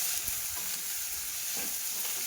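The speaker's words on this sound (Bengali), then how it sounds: "দিয়ে সেদ্ধ করা ছোলাটা দিয়ে আমি ভালো করে কষতে থাকবো।" Spices and boiled chickpeas are stir-fried in a pan, with a soft, steady sizzle and a few scraping stirs of a utensil. No one speaks.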